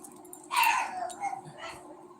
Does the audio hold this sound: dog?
yes